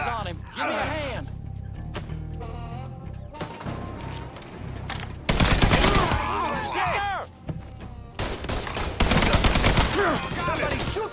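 Video game shootout with bursts of rapid gunfire and loud cracking volleys, strongest in the second half, mixed with shouting voices.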